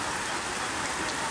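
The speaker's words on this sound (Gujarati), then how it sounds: "એટલો વરસાદ આવ્યો કે વાત ન પૂછો" Steady heavy rain pours down at an outdoor fair, a dense, even hiss of drops close by with no break and no voices.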